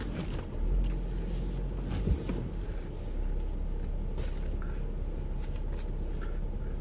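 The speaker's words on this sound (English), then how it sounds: "You're good there, just drive through it." A Jeep creeps slowly through a big hole on an off-road creek trail, its engine a low steady rumble with a brief thump partway through, no talk.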